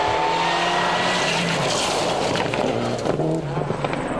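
A rally car on a New Zealand rally stage drives sideways, its loud engine revving and shifting pitch close by, with tire noise and gravel spray as it slides past.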